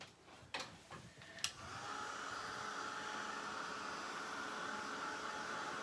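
A few soft handling clicks, then a hair dryer switches on and blows steadily to dry chalk paste on a transfer, a constant close airy whoosh with no talking.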